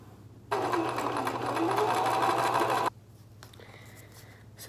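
Sewing machine stitching in one loud, close burst of steady whirring lasting about two seconds, starting and stopping abruptly, with quieter room sounds after.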